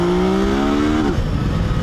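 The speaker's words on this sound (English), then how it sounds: "revs out really good." A 2020 Yamaha Tracer 900 GT motorcycle engine revs up with a rising harmonic whine, then drops off sharply about a second in and settles into a rough idle rumble, loud and close with no talk.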